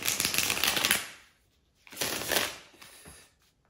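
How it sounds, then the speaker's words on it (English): A deck of tarot cards is shuffled close by in two quick bursts of papery riffling and rustling separated by a short pause, fairly quiet and with no voices. "just give me a second here to shuffle the cards"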